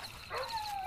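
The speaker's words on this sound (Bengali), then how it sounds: "বহু দূরে একটা কুকুরের অশ্রান্ত চিৎকার।" A faint dog barks and whines somewhere far off, a thin drawn-out cry over a quiet night background.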